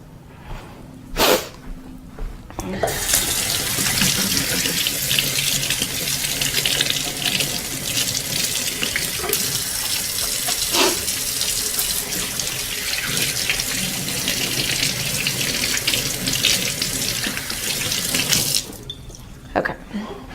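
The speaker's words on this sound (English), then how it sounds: "Now I'm gonna wash my hands." Tap water runs steadily into a kitchen sink while hands are washed during cooking, a continuous loud rush lasting most of the clip after a couple of brief knocks, with no talking.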